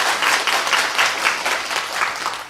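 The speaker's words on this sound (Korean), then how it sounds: "하나님께도 박수 한번 칩시다." A church congregation applauds together in a Sunday service, a dense, steady wash of many hands clapping at close range, holding level for a few seconds with no voices over it.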